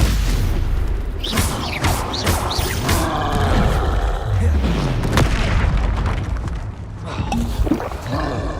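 Spell-casting blasts and explosions in the video game Hogwarts Legacy, a dense loud run of booming impacts, whooshes and crackling bursts overlapping one another with hardly a pause.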